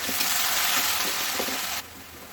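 Cut potatoes seasoned with turmeric and salt sizzle loudly and steadily in hot oil, with a few stirring scrapes, before the hiss drops to a quieter level near the end.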